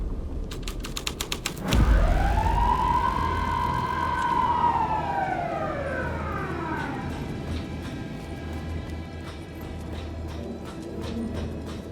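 Police car siren in the video game Alan Wake 2, a single long wailing rise and fall starting after a sharp onset, loud and prominent over a steady low rumble, with no one talking.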